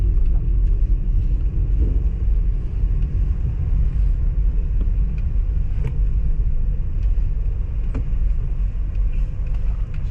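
A Toyota Vios with a reported transmission noise rolls along the road on a test drive, its cabin filled with a loud, steady low rumble of engine and tyres, broken only by a few faint clicks.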